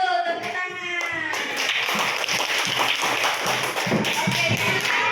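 Rapid, continuous clapping from a group of primary school pupils in a classroom, a dense patter of claps filling the room with some voices mixed in.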